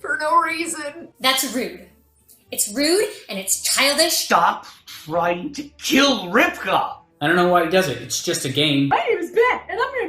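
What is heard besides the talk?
No distinct noise like a dog, phone or traffic.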